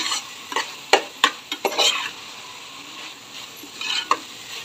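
Veg fried rice with tomato ketchup and red chili sauce is stirred in a pan, with a soft sizzle broken by several sharp scrapes and knocks of the spoon, up close and without talk.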